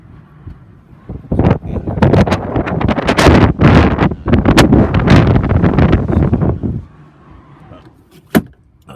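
Wet, gusty wind buffets around a camper van at Upton Lovell, loud irregular roaring bursts striking close to the microphone for several seconds before easing to a low rustle with one last sharp gust.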